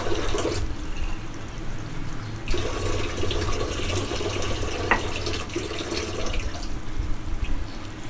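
A glass of water is poured into a cooking pot of matar aloo curry with green chillies, a continuous splashing pour heard up close, with no talking.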